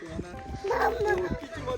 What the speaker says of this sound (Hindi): देखो एक बहुत बड़ा कुत्ता है और एक छोटा कुत्ता है